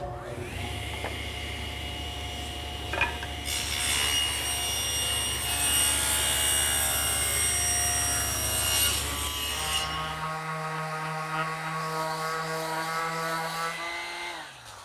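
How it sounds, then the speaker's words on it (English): Wood is ripped into 1 1/4 inch rails for the front of a bedside table, a continuous saw whine with a steady low hum that rises and grows harsher midway, then winds down near the end. "I'm going to use this piece to rip two 1 1/4 inch rails for the front of the table."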